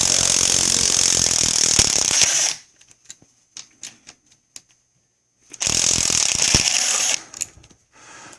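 Quick ratchet clicks from a 10 mm socket working loose the water pump housing on a 2000 Mercury 40hp outboard, short sparse bursts between two longer stretches of dense, loud mechanical clatter.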